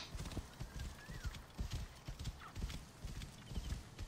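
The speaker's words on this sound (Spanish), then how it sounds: "¡Ese es mi caballo!" Rhythmic horse hoofbeats clip-clop steadily in Assassin's Creed Origins, with a brief faint neigh in the middle, set against a soft background hiss.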